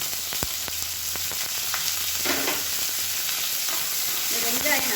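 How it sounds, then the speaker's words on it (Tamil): Steady sizzling of sliced onions frying in hot oil for vegetable masala rice, with a few utensil clicks and stirring scrapes near the pan, no voices. "இந்த வெங்காயம் நல்லா வதங்கணும்"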